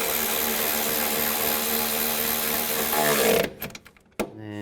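Power tool running steadily while tightening strut bolts on a 2003-2007 Cadillac CTS front driver's side strut, a continuous loud whir for about three seconds, then stopping with short bursts and clicks.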